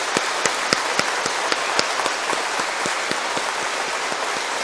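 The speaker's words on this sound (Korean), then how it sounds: "박수 한번 쳐주세요" A church congregation at Sunday Mass, many children among them, applauds steadily with dense, even clapping that holds for several seconds, loud and close.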